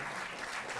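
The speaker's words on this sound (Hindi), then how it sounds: "जोरदार तालियां।" Loud applause from an audience at a Delhi government ceremony honouring athletes fills the clip, a dense, steady clatter of clapping throughout.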